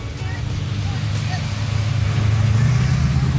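Muscle cars and hot rods roll in at a Melbourne car show, giving a loud, steady low engine rumble that builds slightly, with people talking over it.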